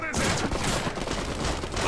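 A rocket blast and gunfire in the Iron Harvest strategy game, heard as a dense, loud burst of battle noise that continues for about two seconds.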